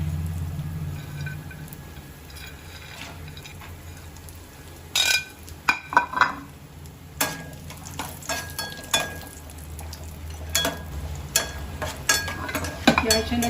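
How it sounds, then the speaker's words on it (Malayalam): Cashews and raisins frying in hot ghee for pulao: a soft steady sizzle under irregular scrapes and clinks of a spoon stirring against the pan, close and moderately quiet. "നമുക്ക് ഈ കിസ്മിസും അണ്ടിപ്പരിപ്പും ഒന്ന് വറുത്തെടുക്കാം."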